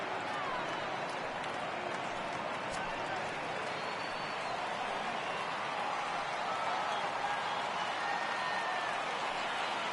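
Baseball stadium crowd at an Indians at Diamondbacks game rising and cheering for a full 3-2 count, a dense, steady roar of many voices heard from a distance and sustained throughout.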